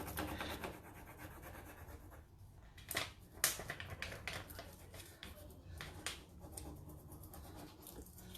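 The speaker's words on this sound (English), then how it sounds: "This one doesn't want to stick as much. Having to rub it more" Hands rub a sunflower transfer onto a burlap-textured painted surface, a soft continuous scraping rasp with a few sharper taps and scuffs, close up and alone.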